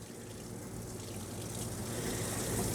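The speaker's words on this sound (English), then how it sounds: "I'm going to go ahead and show you the hot water works" Hot water runs steadily from a tap in a 2002 National Seabreeze 8311 Class A motorhome, a broad close gush that builds slightly louder over a few seconds, with no talking.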